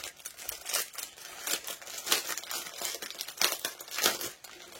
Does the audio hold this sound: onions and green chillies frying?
no